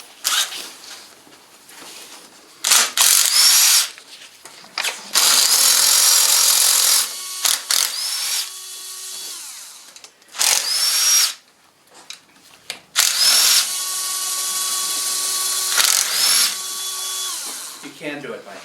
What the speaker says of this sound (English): So what I'm going to do is I'm going to remove those 8 millimeter nuts.